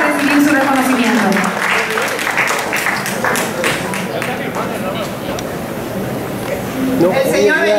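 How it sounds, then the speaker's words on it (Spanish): Audience applause at a New York community festival recognition ceremony, a sustained loud wash of clapping from a large crowd with cheering voices mixed in, fading slightly midway and swelling again at the end. "le damos un fuerte aplauso desde aquí"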